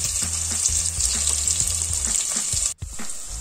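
Chopped onions fry in ghee inside a pressure cooker, giving a steady loud sizzle with a few stirring scrapes, then a brief drop near the end before the hiss comes back.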